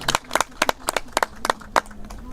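Scattered clapping from a festival audience at a Nagari ritual event, about seven sharp claps in an uneven rhythm that sounds like only a few people. It is fairly close and moderately loud, with a faint voice underneath.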